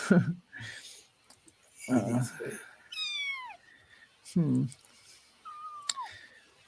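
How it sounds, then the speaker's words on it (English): A cat meows several times up close, some calls short, others drawn out and falling in pitch, with quiet pauses between. "I hear kitties. Yes. Wanting attention."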